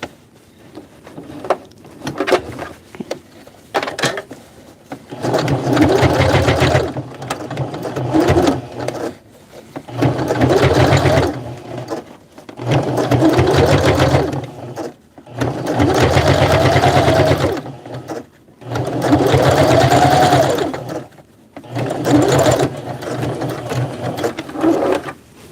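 A sewing machine stitches a Hmong baby carrier in loud, close runs of steady whirring, each lasting a few seconds and separated by short pauses.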